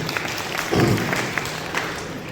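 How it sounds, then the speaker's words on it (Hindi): An audience at a church gathering in Chhattisgarh breaks into a short burst of clapping, moderately loud within a roomy space, fading after about a second into diffuse murmur. "जिसने ताली बजाई है"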